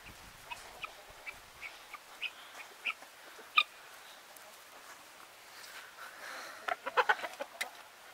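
Backyard hens, a leghorn among them, cluck and murmur softly with scattered sharper squawks and a brief burst of clucking near the end, close and fairly quiet.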